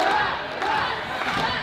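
Dense crowd shouting and roaring at a cage match wrestling event, a loud continuous wall of voices with a few dull thuds mixed in.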